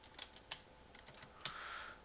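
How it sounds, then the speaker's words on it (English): Typing on a computer keyboard while entering a playlist name for a digital menu board: a few sparse, soft key clicks ending in a sharper tap, close and quiet, with no speech. "make sure when you're typing in the name"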